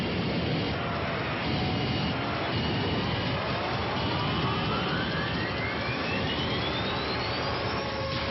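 A large Qantas airliner roars steadily on the runway as it brakes hard after landing, a loud sustained jet engine drone with a whine rising slowly in pitch throughout.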